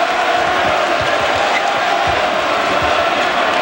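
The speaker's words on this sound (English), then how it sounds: "This crowd is ready to erupt." A college basketball arena crowd at Indiana roars steadily through a tense late-game possession, a dense, loud wall of cheering and shouting with a few bass thumps under it.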